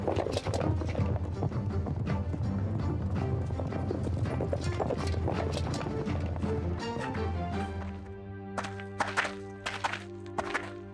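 Horses ridden on the road to Damietta, hooves clip-clopping in a steady rhythm over a continuous musical backing that thins out near the end.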